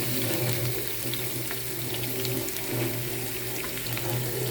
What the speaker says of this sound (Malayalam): നെയ്യ് ഒഴിച്ച് ഇതിൽ കുറച്ച് തേങ്ങാക്കൊത്ത് ഇട്ട് നമുക്ക് വറുത്തെടുക്കാം.